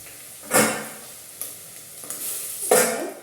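A spoon stirs onions frying in a pot for Kenyan beef stew, giving scraping swishes over a steady soft sizzle, with three stronger strokes spaced a couple of seconds apart.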